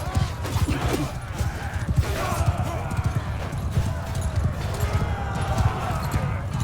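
Rapid hoofbeats of a galloping horse in the video game Mount & Blade II: Bannerlord, amid busy game noise, steady and continuous with clattering and creaks throughout.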